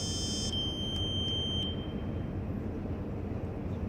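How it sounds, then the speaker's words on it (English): A microcontroller lab alarm sounds as a thin high electronic beep tone for about a second, over a steady loud hum of background noise, then stops. "so this is the alarm."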